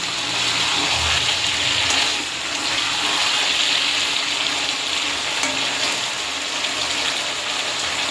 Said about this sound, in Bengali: দেখতে পাচ্ছ বন্ধুরা, চিকেনটা কষানো হচ্ছে, দেখো।